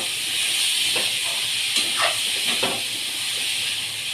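Kurdai bhaji, a dish of crumbled wheat crisps in a generous amount of oil, sizzles steadily in a pan while being stirred, a constant close hiss with faint scraping strokes over it.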